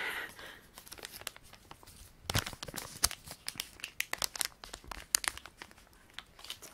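A candy wrapper crinkles and crackles close up in irregular bursts, faint at first and then busier and louder, with no talking.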